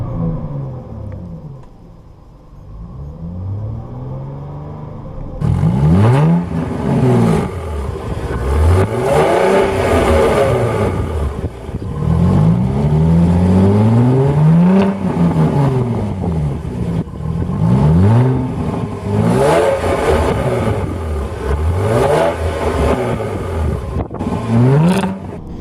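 A 2017 Jaguar F-Type supercharged V6 with its louder exhaust mode on is revved hard again and again. The loud rising and falling engine howls come close together after a quieter idle at the start.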